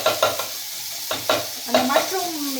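Mushrooms sautéing on a hot iron tawa, with a steady sizzle broken by several scraping, stirring strokes of a spatula against the metal, close and clear.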